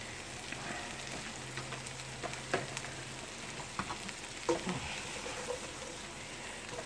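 Cabbage and country sausage fry in butter in a pan, giving a soft, steady sizzle with scattered small pops and crackles, fairly faint and with no one talking.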